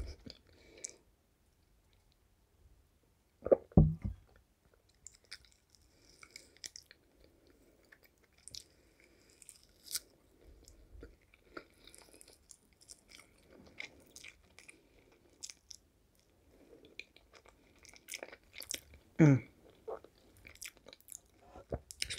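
Crunchy, close-miked chewing of dried fish and squid snacks alongside beer, quiet and intermittent with loud bony crunches every so often and soft wet mouth clicks in between.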